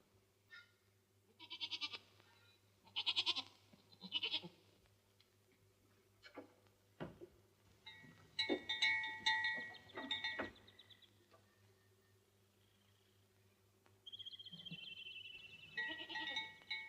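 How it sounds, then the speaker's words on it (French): A goat bleats several times in a 1937 film drama about milking a goat, with harmonic cries recurring through a steady background hum and some clatter between calls. "je trouve que tu es une très belle chèvre"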